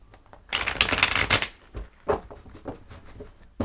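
Tarot cards being shuffled by hand during a reading: a dense riffling burst up close, followed by a few softer card flicks and slides, with no talking.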